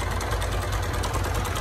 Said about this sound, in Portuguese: Fazendo um pouco de barulho no motor por alguns motivos.